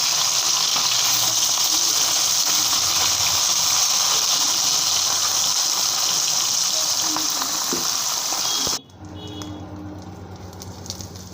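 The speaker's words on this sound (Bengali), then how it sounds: "মাছগুলো সব ভেজে নিই বেশি কড়া করে ভাজবো না হালকা করে ভাজবো" Fish, likely bata fish, frying in hot oil, a loud, steady broadband sizzle that runs continuously for about nine seconds, then drops abruptly to a quieter low hum.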